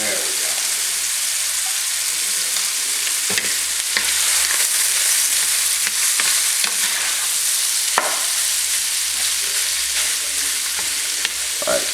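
A meat sauce for spicy cheesy chili lasagna fries in a pot with a loud, steady hiss, broken by occasional scraping stirs and knocks of a utensil.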